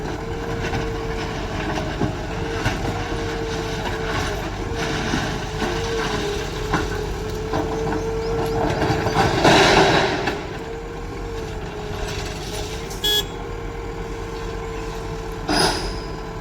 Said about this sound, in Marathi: जुने रेल्वे पटरी उचलताना